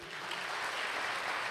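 A church congregation applauds in a brief, continuous wash of clapping, fairly faint and distant-sounding, with no voices over it.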